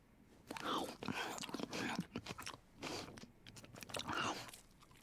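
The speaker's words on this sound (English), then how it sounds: "Why is it sounding like they're eating the popcorn like right next to me?" Someone loudly chewing popcorn close to the microphone during a stream, repeated crunchy bites and wet munching in uneven bursts.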